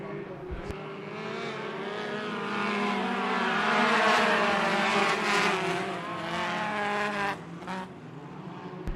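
Western Midgets Racing Series midget race cars roar past at Bakersfield Speedway, a loud rising and falling pack of engines swelling to a peak and fading, with trackside crowd noise and faint talk underneath.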